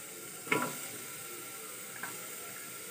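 Chopped carrot, capsicum and potato hit a hot oiled pan during mutton biryani cooking, giving a sudden burst of sizzle around the start, then a steady low frying hiss with a second smaller crackle and a clatter at the end.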